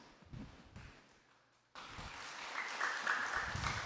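Audience applause in a hall at a religious gathering: faint, scattered noises at first, then clapping breaks out suddenly and swells into a loud, sustained ovation.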